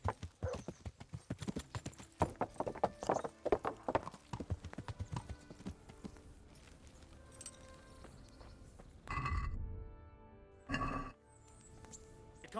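Horse hooves clip-clop steadily in Kingdom Come: Deliverance, a dense run of close, sharp strikes that thins out into quieter ambience with a couple of brief louder bursts near the end.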